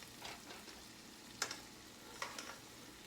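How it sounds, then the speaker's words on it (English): A tomahawk steak basted with butter and its juices sizzles softly in a pan, a faint steady crackle with a few brief sharper spits and pops. "you tilt the pan over and you get all the butter and the juices and you just put it on top of the steak like that"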